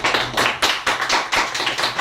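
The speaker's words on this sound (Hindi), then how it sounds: "उसके लिए एक जोरदार ताली होगी।" An audience claps in a steady rhythmic beat, with sharp, loud bursts about three times a second, close and with no voices over it.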